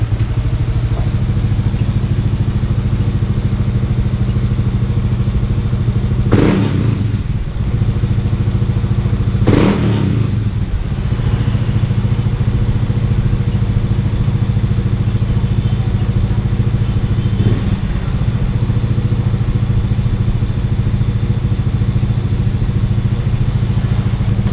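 A Yamaha Mio i 160cc touring scooter idles steadily and loudly up close, with a few sharp revs or clacks punctuating the constant low engine drone and no speech.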